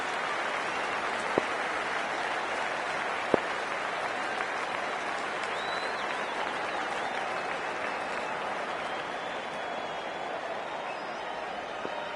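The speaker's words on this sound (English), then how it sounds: "There's a buzz, a real buzz coming from the stands." A steady, dense crowd roar with applause-like texture from the stands of an England vs Australia Ashes Test in the video game Cricket 24 holds evenly throughout, broad and continuous with no clear peaks, distant-sounding and without any speech over it.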